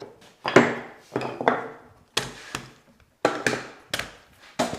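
Hand tools cutting and trimming the corners of a red gum stool in a small workshop, giving a series of sharp, close chopping taps at an irregular rhythm, roughly eight distinct strikes with short pauses between, no talk.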